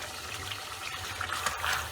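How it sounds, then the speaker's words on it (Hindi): Roughly half a cup of water poured into a pan while cooking chicken biryani, a soft steady trickle and splash lasting a couple of seconds. "इसमें थोड़ा सा पानी डालेंगे"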